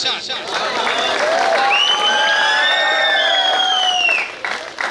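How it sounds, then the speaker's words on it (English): A crowd at a winning-celebration stage event applauds and cheers the team manager, with loud, sustained clapping and rising whoops or whistles running for about four seconds before tapering off. "A very high applause to him."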